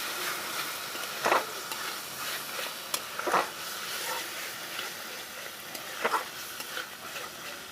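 Cashew paste being stirred into masala in a pan while preparing a Bengali potato and prawn dorma, with soft scraping strokes and a faint sizzle, three louder stirring scrapes standing out against a steady low frying hiss.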